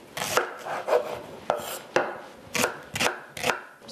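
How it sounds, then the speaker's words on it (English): A knife chops an onion finely on a cutting board, about eight sharp, evenly spaced strokes knocking against the board, close and clear with no talk. "now we can chop up the onion"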